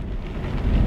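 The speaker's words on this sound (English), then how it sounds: "straight on cue, nice little rainstorm" Rain falls during a drive in Euro Truck Simulator 2 with a weather mod, heard as a brief, even, broadband hiss of rainfall with a low rumble underneath.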